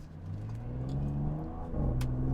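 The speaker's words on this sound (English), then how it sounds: "So to hear this nice crack from the engine at the back, from the exhaust, very sporty sound at the back." A 2021 Audi S7 accelerating hard in dynamic sport mode: a steady rising engine drone with an upshift near the end, heard from inside the car; the exhaust crackle is not clearly distinct.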